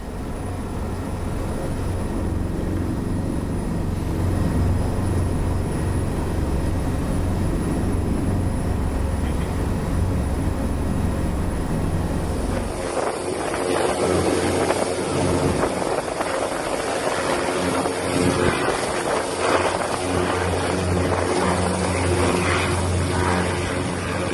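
TNI AU Caracal military helicopter landing at a flood-isolated area in Aceh, a loud steady rotor and turbine drone that shifts in tone partway through as it nears the ground, with no talk.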